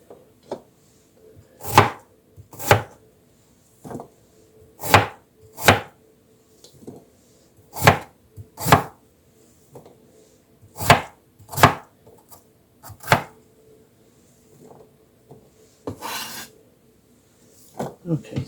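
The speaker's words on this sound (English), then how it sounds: "sticks and turn around and cut them into cubes" A knife strikes a cutting board again and again, dicing jicama sticks into cubes for home fries: sharp, close chops in uneven bursts with short pauses between them, and no other sound competing.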